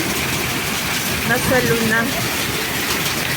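A hail storm pelts a yard with a dense, steady roar of ice striking surfaces, while a person speaks briefly over it.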